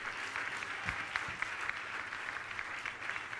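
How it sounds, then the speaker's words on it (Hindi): Audience applause fills a hall during a spiritual question-and-answer gathering, a dense sustained clapping from many hands at steady loudness, with no speech over it. "इस प्रश्न के लिए जोरदार ताली बजाकर सम्मान करें।"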